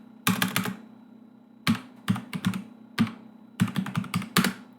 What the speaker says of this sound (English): Told you I can't type.